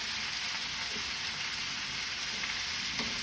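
Potatoes and onions frying in oil, with a loud, dense, continuous sizzle and faint stirring sounds underneath, close up with no talking.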